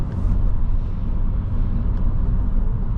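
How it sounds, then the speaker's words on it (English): A 2004 Lexus SC430 with its V8 engine heard from inside while driving, a steady, dense low rumble mixed with road noise, loud and continuous throughout with no talking. "The V8 has such a glorious sound to it."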